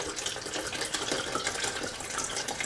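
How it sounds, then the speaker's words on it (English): Tap water runs steadily into a blender container, a bright continuous splashing hiss with no voices. "So I'm going to fill the water"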